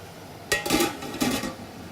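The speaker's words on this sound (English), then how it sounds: "And then you put your lid back on" A metal lid is set back onto a canning pot while making dill pickles, giving two quick clattering clinks about half a second apart, close and moderately loud in a quiet kitchen.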